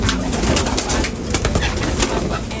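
Pigeons coo close by in a loft, soft repeated throaty burbles layered over one another with light rustling, loud and continuous through the short stretch.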